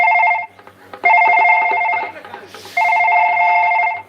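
A telephone rings loudly with a steady electronic trill, repeating in three long bursts with short gaps between them.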